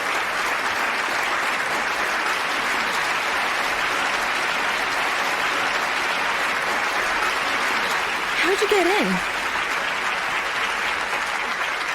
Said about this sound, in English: Well, I think it's time you stopped applauding.